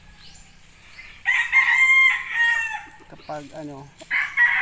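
A red gamefarm broodcock rooster crows loudly and close by, a long harmonic cock-a-doodle-doo that rises and holds, then a second crow starts near the end, with a brief spoken word in between.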